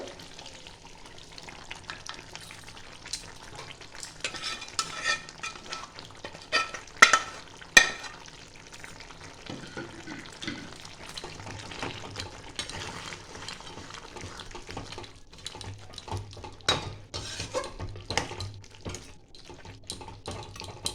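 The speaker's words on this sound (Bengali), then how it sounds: "এবার দিয়ে দেবো পেঁয়াজগুলো" Onions go into a pan with nearly cooked chicken for chicken do piaza, frying with a low sizzle while a spoon stirs and scrapes intermittently, with a few louder clatters and no talking.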